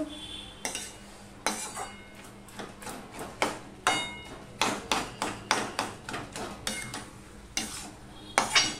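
A utensil stirs cooking saag greens in a pan, producing repeated scraping knocks and clatters in an irregular rhythm over a soft sizzle.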